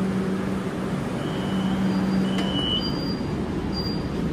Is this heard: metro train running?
yes